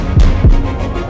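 Two deep, thumping heartbeats in quick succession, loud and close, followed by a low throbbing hum with no speech.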